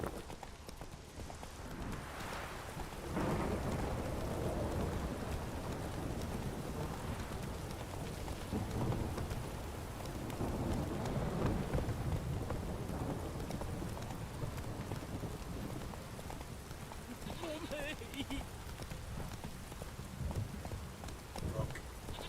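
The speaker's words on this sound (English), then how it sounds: "Don't stop raining, my arse will rot off." Steady rain pours on surfaces in The Witcher 3, with low thunder rumbling through the downpour and a brief brighter sound near the end.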